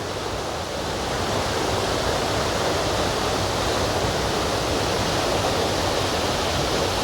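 A falling-springs waterfall pours down beside the flooded Susquehanna River, producing a loud, continuous roar of rushing water that stays steady and broadband throughout with no voices over it.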